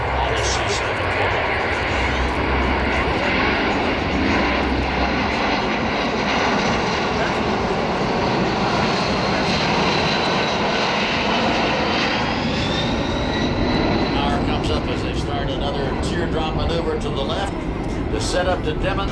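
A C-17 Globemaster III jet transport roars loudly and continuously at an air show while setting up a full-flap approach to a simulated short-field runway, its engine whine shifting in pitch as it passes, with a commentator talking over it.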